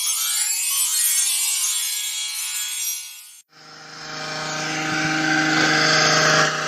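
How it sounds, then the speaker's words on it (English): A chainsaw is running during gardening work outdoors. A high, buzzing whine cuts out abruptly, and a lower, steady motor drone with a strong hum takes over. It is loud and sustained, with no talk. "my dad's got him doing some gardening work and has made the unfortunate decision to got some sort of chainsaw."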